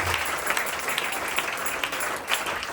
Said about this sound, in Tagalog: Malakas po na palakpak para sa ating Panginoon.